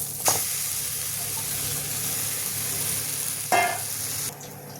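Boiled potatoes fry in a spice mix with Kashmiri fenugreek, giving a steady moderate sizzle, with two short bursts of stirring scrapes in the pan.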